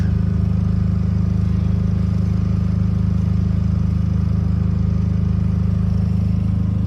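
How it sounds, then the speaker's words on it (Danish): A steady, continuous engine drone with a low hum from generators running nonstop nearby in a Kyiv city street, unchanging throughout with no voices. "Det er generatorer, der kører overalt nede i byen."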